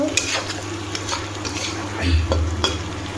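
Spiced kosha mangsho meat frying in a pan with garam masala gives a steady close sizzle, with scraping stirs and light utensil knocks throughout.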